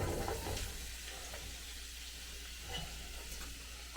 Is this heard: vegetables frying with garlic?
yes